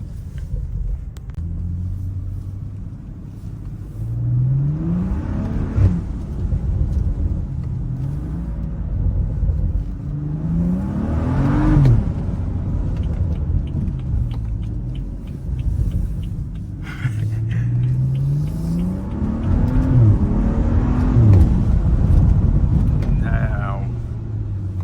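A BMW 335i F30 on a snowy road at night gives a low engine rumble that climbs in repeated rising revs through the gears, with tire and road noise beneath and someone talking over it.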